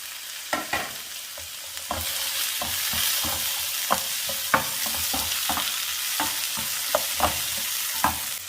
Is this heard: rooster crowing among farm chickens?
no